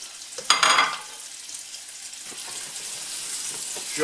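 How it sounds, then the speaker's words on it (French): Chicken thigh pieces go skin-side down into hot oil in a pan, a sharp burst of sizzling and spatter near the start, then a softer steady frying hiss with faint stirring scrapes. "je vais saisir mes morceaux de poulet"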